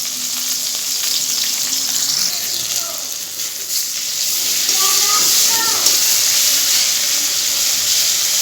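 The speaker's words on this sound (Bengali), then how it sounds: "আদা রসুন জিরা পেঁয়াজ মশলাটা লাল লাল করে ভাজা হয়ে গেছে পেঁয়াজ" Onion, ginger, garlic and cumin masala sizzles and fries in a pan, a steady close crackling hiss with occasional stirring scrapes, swelling louder midway and continuing without talk.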